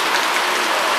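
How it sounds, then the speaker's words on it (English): Heavy rain pours down in a dense, steady hiss with no break, loud and close, and no voices over it. "Raining real hard."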